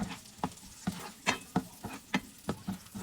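Onions frying with longganisa in a pan for sisig, a soft sizzle broken by rhythmic spatula scrapes and stirs roughly every half second, close and fairly quiet, with no talk.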